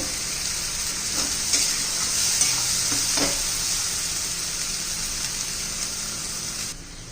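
Kharda chicken masala sautés in hot oil with a constant hiss and crackle, while a few scraping stirs come through early on. The sizzle stays steady and then drops slightly at the very end.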